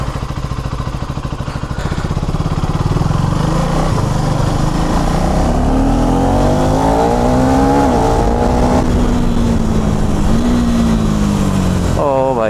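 A KTM Duke 390 (2024) motorcycle engine idles loudly and steadily after a cold start, its pitch rising and falling as the throttle is blipped, with a brief rev at the end.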